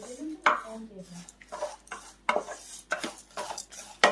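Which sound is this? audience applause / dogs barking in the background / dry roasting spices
dry roasting spices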